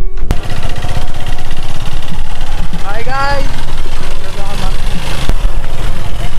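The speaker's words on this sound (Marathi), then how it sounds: "आता आम्ही गाडी इथून स्टार्ट करतोय" Motorbike engine running loud and steady near the mic on an off-road track, with constant low rumble throughout and a voice talking over it briefly.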